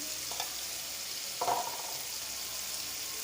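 Spices sautéing in a hot pan for dhaba-style mash daal give a steady sizzle and hiss, with brief scraping stirs cutting in; no voices.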